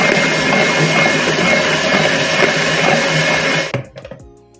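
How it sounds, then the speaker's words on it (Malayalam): Electric mixer beating eggs and sugar for madeleine batter, a loud steady whirring hum that runs unbroken and then cuts off near the end, followed by a few brief clinks. "നമുക്ക് ഒന്നും കൂടി നന്നായിട്ടൊന്ന് ബീറ്റ് ചെയ്യാം."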